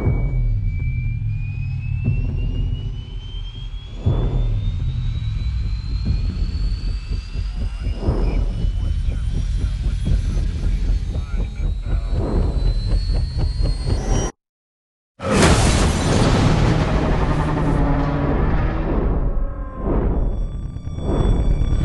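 A helicopter flies in the Kong: Skull Island trailer, a loud, sustained engine roar with a slowly rising whine and rhythmic thumping. The sound cuts out for a brief moment midway, then returns just as loud.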